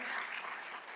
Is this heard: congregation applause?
yes